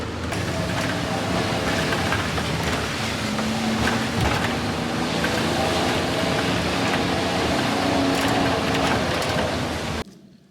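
A car climbing a narrow mountain road toward a tea garden, a steady engine and road rumble with wind-like hiss, close and continuous, cutting off abruptly near the end.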